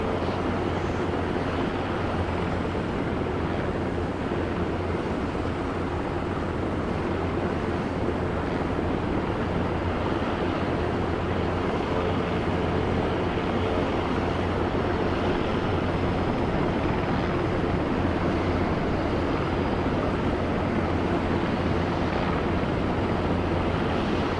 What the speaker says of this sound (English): Watch for Hornets coming in for landing.